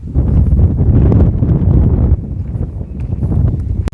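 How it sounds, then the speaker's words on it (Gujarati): Strong wind buffets the microphone in an open groundnut field, producing a steady, loud, close rumble that dips briefly midway and then continues. "પવન બહુ હોય ને માઇકમાં આવે પવનનો અવાજ"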